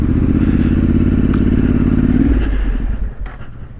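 A trail motorcycle on a green-lane ride across moorland roars loudly up close with a steady, rough engine drone, then drops off toward idle with a few clattering knocks near the end.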